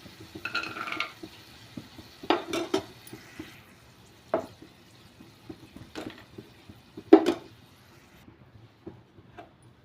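Roasted peanuts are tipped from a pan into a bowl, heard as scattered light clinks and soft rattling scrapes at irregular intervals, close and fairly quiet.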